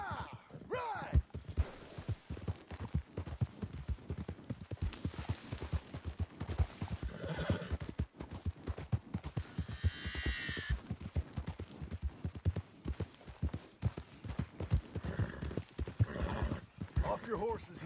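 Horses in Red Dead Redemption 2 gallop with a rapid, steady clip-clop of hooves across the whole stretch, punctuated by a couple of neighs, while characters talk over the riding.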